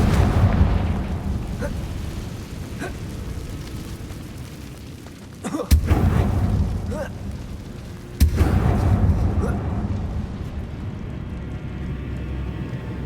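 Explosive Confringo spell blasts in Hogwarts Legacy, with two sharp booming bursts standing out over a dense, rumbling game soundscape that continues throughout.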